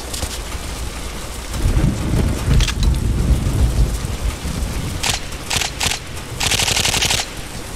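Rapid automatic gunfire from a weapon in the IGI 1: I'm Going In shooter game, loud rattling bursts with several distinct sharp volleys toward the end, no talking over it.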